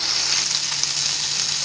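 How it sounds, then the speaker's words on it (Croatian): Food sizzles in a crepe pan, a brief, close, steady crackling hiss of frying with no voices. "Pošto pećemo ovo istoj tavi od palačinaka"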